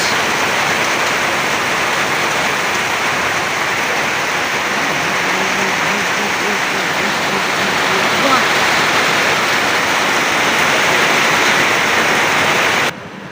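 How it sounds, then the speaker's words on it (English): Heavy rain pours down outdoors under dark clouds, a loud, dense, unbroken hiss with faint murmuring voices underneath, cutting off abruptly at the end. "Standing out there when it is raining."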